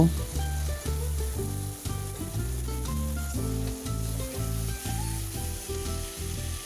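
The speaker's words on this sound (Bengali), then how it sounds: "পাঁচফোড়নটি হালকা ভাজা হয়ে গেলে এরপর আমরা দিয়ে দেব সেই চালতা" Chopped wood apple pieces and panch phoron spices fry in a pan with a constant sizzle that runs beneath loud, rhythmic background music.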